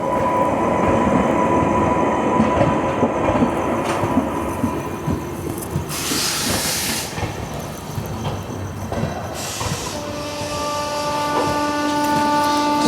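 The Sachkhand Express passes another train on the Amritsar–Nanded line, heard from inside the carriage as a loud, continuous rumbling rush. Bright whooshes and rattles mark the passing cars, and no one speaks.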